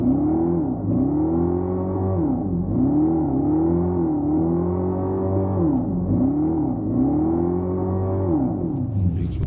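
A 2025 Dodge Charger Daytona EV Scat Pack's Fratzonic synthetic exhaust drones close by, a deep layered tone swelling and falling in repeated rev-like sweeps, steady and fairly loud with no talking.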